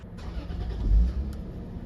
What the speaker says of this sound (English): The transmission fluid level needs to be checked when the car is running and in park. So we will go ahead and turn it on.